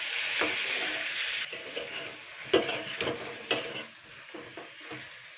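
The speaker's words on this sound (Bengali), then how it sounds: "এইবারে 2-3 মিনিট নাড়াচাড়া করে নিতে হবে।" Tomato chutney with gondhoraj lemon leaves being stirred in a hot pan: steady sizzling under repeated scraping strokes of a spoon, with a few sharper knocks against the pan, close and fairly loud, no talking.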